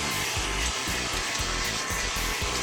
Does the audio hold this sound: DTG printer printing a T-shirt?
yes